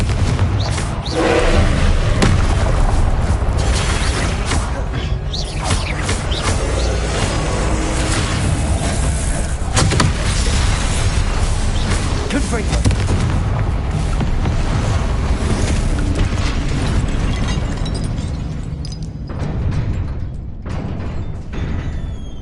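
A Confringo blasting spell explodes in Hogwarts Legacy, heard as a loud, sustained roar of booming, rumbling impacts and crackling debris that keeps going for the whole stretch with no talking over it.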